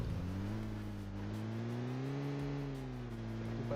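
A car driven in the video game PUBG, its engine a steady droning hum with harmonics that rise slightly and fall as it is pushed along, loud and continuous with no voices.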